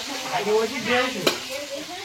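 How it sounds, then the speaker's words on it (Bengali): Dry red chillies fry in oil with a close, crackling sizzle that rises and falls, with a sharp clink partway through and faint voices underneath. "শুকনো লঙ্কা দিয়ে দিলাম"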